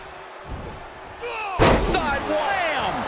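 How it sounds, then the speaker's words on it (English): A heavy slam lands in a WWE 2K24 wrestling match with a sudden loud thud, then crowd noise. Commentator speech runs underneath the impact. "And there's more nasty sidewalk slam."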